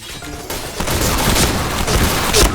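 Rapid gunfire from a black shotgun in Point Blank, a first-person shooter, in a headshot-only mode: a quiet start, then a steady close barrage of overlapping shots with a few loud booming blasts near the end.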